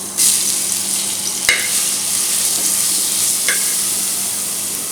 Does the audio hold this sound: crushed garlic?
yes